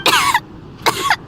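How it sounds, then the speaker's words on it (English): A character in Genshin Impact coughs twice, each a short rough burst close up, with a brief start of a third at the end. "How long have you had that cough"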